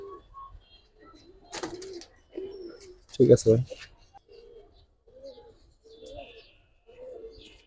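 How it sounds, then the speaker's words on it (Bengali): Giribaz pigeons, an old-generation brown-necked breed kept by a seller, coo in low soft bursts through the clip, with one louder cluster near the middle and someone speaking briefly among them. "এত সুন্দর কবুতর"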